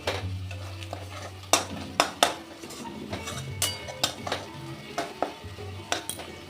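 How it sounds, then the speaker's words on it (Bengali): Whole spices (green cardamom, cloves, star anise, black peppercorns and bay leaves) fry in oil for a mutton curry, with a low steady sizzle broken by sharp, repeated spoon clinks and scrapes against the pan. "মিনিট খানেক মশলাটা আমি ভেজে নিয়েছি"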